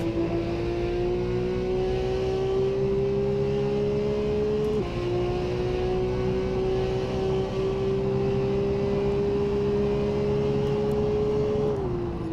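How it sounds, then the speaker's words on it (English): A Porsche sports car engine held at full throttle on a track, with traction control off, gives a loud, steady, close roar that climbs in pitch and drops briefly twice, as at gear changes, with no talking. "I don't want to talk over that engine sound. It's great."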